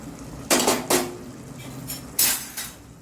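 Metal pot lid clanking as it is lifted and set back on a pot of cooking mutton keema curry with amaranth leaves, three or four sharp close clinks spaced across a quiet kitchen background.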